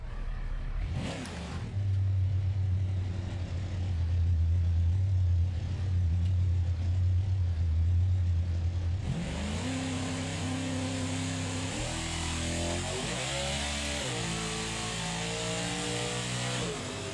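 A race car in a racing video game idles with a low, steady engine drone, then revs up hard as its tire spins, the engine note climbing and wavering in loud, rising sweeps.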